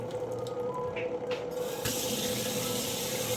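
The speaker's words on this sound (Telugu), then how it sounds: "ట్యాప్ ఆన్ చేయి." A kitchen tap opens partway through and water rushes out in a steady, fairly loud stream, after a few faint clinks and rattles at a sink.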